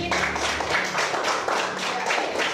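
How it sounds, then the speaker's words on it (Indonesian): A small group, likely children in a classroom, claps for a girl named Gigi, with quick close rhythmic handclaps in a steady patter for a couple of seconds, and faint voices underneath. "tepuk tangan buat si Gigi"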